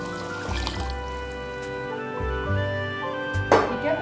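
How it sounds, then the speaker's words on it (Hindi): Water pours into a pot of soaked rice with potatoes and peas for pulao, a close, steady trickle and splash running with a few louder surges. "अब इसमें पानी शामिल करते हैं साथ में,"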